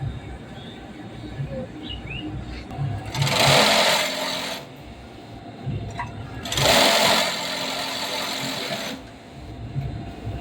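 Industrial sewing machine stitching fabric runs in two loud bursts of a few seconds each, with a quieter mechanical hum between them and faint bird chirps in the background.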